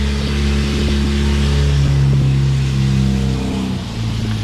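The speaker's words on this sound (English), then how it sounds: "Everybody in this town have loud cars or what?" A loud car passes close by on a town street, its engine a heavy continuous rumble that swells slightly in the middle and eases off toward the end, with no voices over it.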